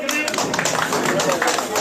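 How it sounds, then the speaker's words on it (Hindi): A crowd at a rally in Ladsauli, Gannaur claps steadily to welcome candidate Devendra Kaushik, a dense continuous wash of hands with voices mixed in throughout. "सभी तालियों से उनका स्वागत करें"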